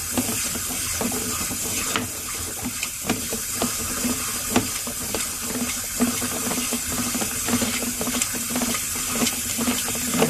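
Water rushes through sewer line cleaning equipment as the flow is ramped up, a loud steady hissing spray with scattered knocks and clatters, continuous and close, with no talk.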